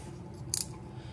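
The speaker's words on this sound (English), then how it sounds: "See these two little flaps? I gotta cut those off." Scissors make a single quick snip while cutting a small flap off a gasket for a Husqvarna 61 chainsaw carburetor, a faint close click in an otherwise quiet room.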